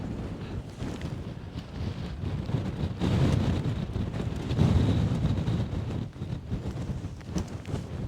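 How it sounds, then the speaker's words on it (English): Bitterly cold wind roars across a Scottish mountain summit, buffeting the microphone in a steady, loud rush with gusty surges and no voices. "That wind is bitterly cold."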